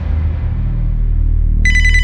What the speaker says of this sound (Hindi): एक फोन आ रहा है